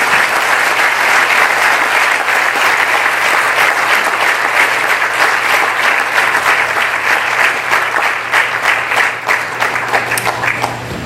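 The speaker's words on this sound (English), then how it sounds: "Please join me in a big round of applause as we say thank you" Sustained audience applause at a 32nd anniversary gathering of a Gurukulam school, dense steady clapping from a large crowd, loud and continuous for about eleven seconds, slowly thinning toward the end.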